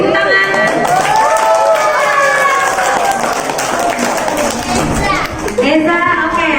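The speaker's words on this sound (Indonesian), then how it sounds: "beri tepuk tangan" A room full of children and adults claps for a student at a school report card day, a steady, dense wash of applause with lively voices and chatter mixed throughout.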